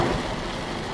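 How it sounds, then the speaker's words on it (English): Heavy rain pours onto a road near Mysore, a dense, steady hiss that stays loud and even throughout, with a faint low rumble beneath it. "but the rain is falling."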